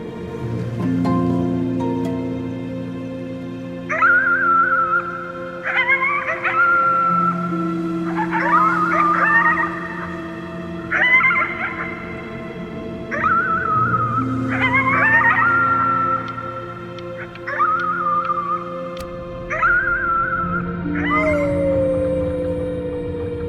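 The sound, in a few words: child howling at the moon, from video game Before Your Eyes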